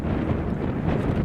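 Outdoor wind buffeting a microphone at a jumping session, a dense, steady rumbling roar that fills the short moment with no voices.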